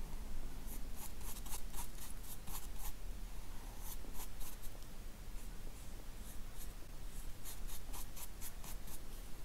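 Coloured pencil scratching on textured paper while drawing a crocodile, giving a continuous close, dry rasp with bursts of quick back-and-forth hatching strokes over a steady hiss.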